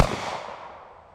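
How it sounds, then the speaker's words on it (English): A single Taurus GX4 pistol shot fired at an outdoor range, a sharp loud crack with a long decaying echo tail, heard alone. "I'm literally shooting from the hip here."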